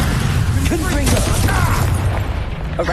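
A Confringo blasting curse explodes in Hogwarts Legacy as a dense, rumbling burst of fiery noise that stays loud throughout, with a brief voice-like sound partway through.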